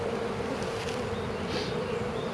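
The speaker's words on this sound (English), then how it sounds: "Now this frame has a good amount of bees, so I'm still going to shake some extras" Honey bees on a hive frame in a mating nuc setup hum in a dense, steady drone close by, with no break for the whole stretch.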